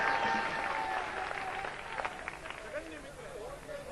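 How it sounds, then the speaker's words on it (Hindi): Audience clapping for a poet at a kavi sammelan (Hindi poetry gathering), a steady, fairly faint wash of applause heard from some distance, with a voice and some tonal sounds mixed in over it. "जोरदार तालियां बजाए बुद्धि प्रकाश दादीज"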